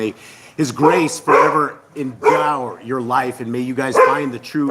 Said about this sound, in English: sorry for the dogs